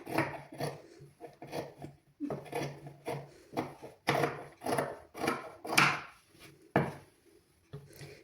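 Scissors cutting cloth for a 1–3-year-old child's pant during a tailoring class: repeated short snips and rustling strokes in an irregular rhythm, close and fairly quiet.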